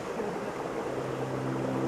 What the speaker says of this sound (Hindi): और पानी की आवाज़।